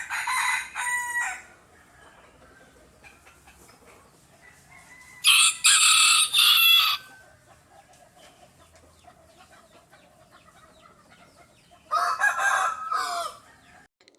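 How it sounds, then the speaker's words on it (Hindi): A hen gives three loud, separate bursts of clucking and crowing-like calls, each lasting about a second or two, with quiet pauses between them and no voices. "H for hen"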